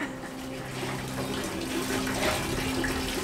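Water runs steadily from a tap, a continuous close hiss and splash that holds at an even level throughout with no voices over it.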